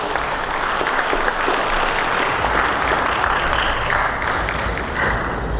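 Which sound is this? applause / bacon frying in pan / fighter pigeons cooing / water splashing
applause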